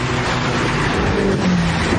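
A Ferrari SF90 Stradale accelerates with a steady, loud engine roar that holds for the whole stretch, a slight rise in pitch near the end, with no voices over it.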